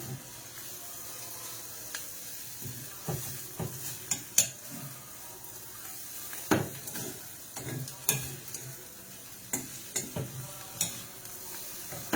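Paneer frying in butter on a tava over a low flame, with a steady soft sizzle broken by repeated stirring scrapes and utensil clicks. No one talks.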